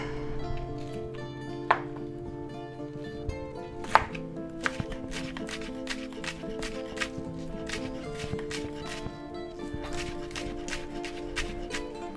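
A knife slices food on a cutting board for an egg, ham and cheddar sub sandwich, a quiet series of sharp, fairly regular chopping taps that quicken toward the end, close by.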